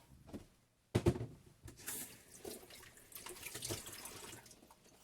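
Zucchini squash is rinsed under a running kitchen tap, a steady close stream of water splashing into the sink with a sharp burst near the start and uneven spattering as the squash is turned.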